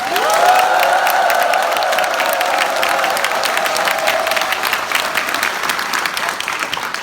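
Dense, sustained applause from a large crowd welcoming the Incheon mayor during a district visit in Gyeyang-gu, with a voice ringing out near the start and the clapping running steadily for several seconds.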